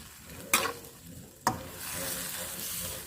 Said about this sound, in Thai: ผัดหอมหัวใหญ่ ใส่กับกุ้งเลยนะคะ